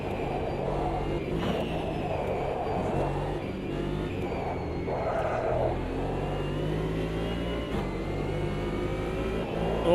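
Racing cars in a sim racing video game with a Porsche closing in, a steady engine drone with revving pitch changes and shifting gears throughout, fairly loud and continuous.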